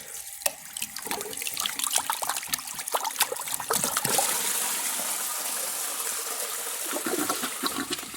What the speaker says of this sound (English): Third flush. That was just the rest of the water in the tank.